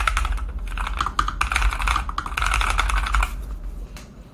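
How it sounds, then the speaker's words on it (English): Fast, close typing on a NuPhy Air96 keyboard, a dense run of crisp key clacks in bursts with a short pause near the end, with no talking. "that typing sound."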